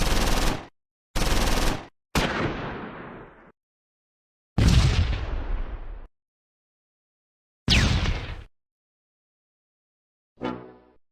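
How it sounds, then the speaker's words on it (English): Medium machine gun fire in the wartime strategy game Close Combat 4, Battle of the Bulge, arriving as several separate loud bursts with sharp onsets and decaying tails, spaced by silences, ending in a shorter, fainter burst. "The medium machine gun has drawn fire and popped smoke."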